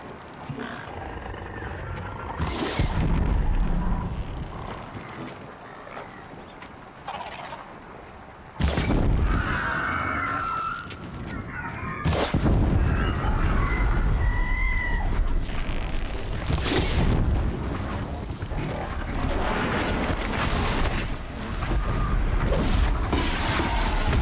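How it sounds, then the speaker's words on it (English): Explosions in Horizon Zero Dawn: heavy booming blasts and rumbling bursts recur across the stretch, loud and close, layered with roaring, growling creature sounds and clattering debris, with no talking over them. "Sorry, we have to stop for explosions."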